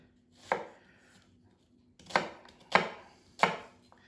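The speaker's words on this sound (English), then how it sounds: "So just chopping it roughly like that." Onion being roughly chopped with a knife on a board, four distinct thuds, one then a gap and three in quicker succession, close and clear with no talk.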